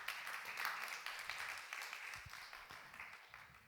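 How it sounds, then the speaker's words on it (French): A church congregation applauds during a Sunday worship service, scattered moderate clapping that thins out over a few seconds, fairly distant in a reverberant hall. "Tu peux applaudir le Seigneur, bien sûr."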